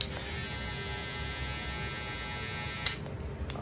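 A Matsui hair clipper trimmer motor runs with a steady, deeper electric hum and buzz, close and continuous, cutting off near the end.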